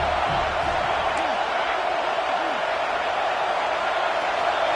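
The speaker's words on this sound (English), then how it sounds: "The Tide crowd roaring noise down onto Saban Field on third down." Alabama crowd at a football stadium on third down gives a dense, sustained roar, steady and wide with no breaks, a constant wash of massed voices.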